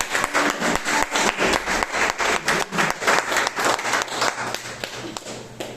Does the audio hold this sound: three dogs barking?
no